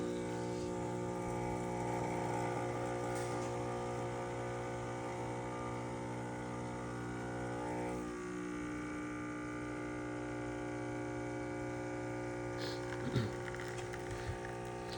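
The vibratory pump of an espresso machine hums steadily and quietly during extraction on a bench test, a constant low buzz with a few faint clicks and knocks near the end.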